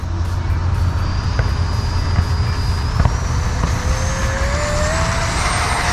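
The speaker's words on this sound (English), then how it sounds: "We got the Freewing Vulcan 70 millimeter Sunflower with new servos. Taking off." A Freewing Vulcan 70mm electric ducted fan RC jet spools to full power for takeoff, its loud steady whine rising in pitch over several seconds against a rumbling outdoor background.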